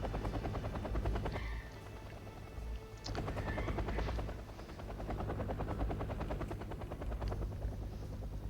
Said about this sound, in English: I've got a Lynx helicopter, two of them in fact, gives me a little bit of air power